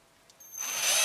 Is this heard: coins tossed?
no